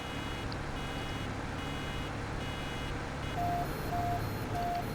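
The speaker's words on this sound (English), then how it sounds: "So we get a different beep." A McHale Fusion 2 baler in Farming Simulator 15 sounds a steady, evenly spaced warning beep once the bale is nearly full, over a constant loud tractor engine drone.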